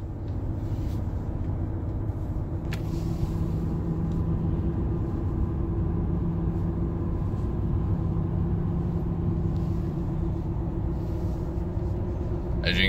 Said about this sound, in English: I'm getting a lot of questions on Cooper tires, whether they have a lot of road noise.